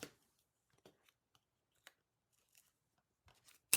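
Scissors snipping through paper and construction tape during a craft build, a handful of faint, sparse clicks and crisp cuts in a quiet room, ending on one sharper, louder snip.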